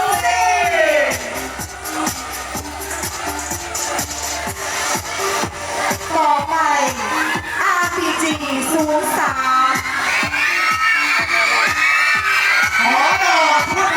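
A large crowd screams and cheers loudly and continuously at a Loy Krathong Nang Noppamas pageant in Khon Kaen, with shrill whoops and shouts over a steady pounding beat.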